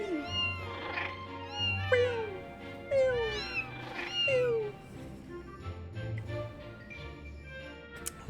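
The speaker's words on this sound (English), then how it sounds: "Kitty!" Repeated cat meows from a video game cat, several separate calls at roughly one-second intervals over a low steady background hum, fairly close and clear.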